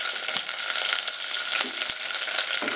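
Mustard seeds sizzle and crackle in hot oil in a pan, a steady close frying hiss with small pops throughout and no voice.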